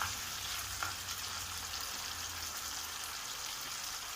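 Chopped onions and pancetta bacon sizzle steadily in a pan for stewed chicken, a dense, even frying hiss throughout with one faint clink near the start and no talking.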